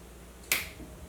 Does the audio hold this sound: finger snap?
yes